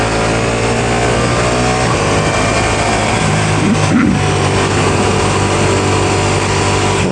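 A 2023 Ducati Diavel V4 motorcycle pulling hard on Interstate 80 in hot weather, loud close engine drone with rising harmonic tones, a gear change around two seconds in, and heavy wind rush throughout.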